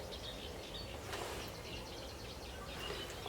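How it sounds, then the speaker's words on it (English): Birdsong at dawn in a nature reserve, where warblers and a wren are singing: a faint, distant chorus of high chirps and trills over a steady outdoor hiss. "Probably hear the wren as well."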